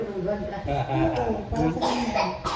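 Several rough coughs break up a person's talking, close and fairly loud, with short bursts of voice between them.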